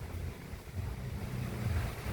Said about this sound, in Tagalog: Mahangin na naman kasi.